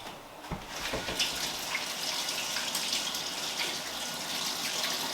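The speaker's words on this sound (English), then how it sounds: "So I will take them, I will wash them." Tomatillos being washed under a running tap, a steady rush of water splashing into a sink with small clatters near the start, continuous and fairly close, with no talking.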